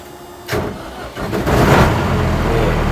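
A tuned 1.9 Pro MRX motorcycle engine starts, a sharp cranking burst followed by the engine catching and settling into a loud, steady idle, close by.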